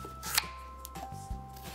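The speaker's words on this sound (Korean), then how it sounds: "무가요, 엄청 단단해갖고요. 막 칼이 잘안 들어가요." A kitchen knife cuts through a hard Korean radish for kkakdugi-style seokbakji, giving a few close, distinct chops and thuds, one sharp crunch standing out among quieter cuts, with no talk.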